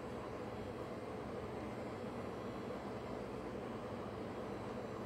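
Steady droning engine and rotor rumble of a helicopter in the Fortnite video game, continuous and even at moderate loudness with no talk over it.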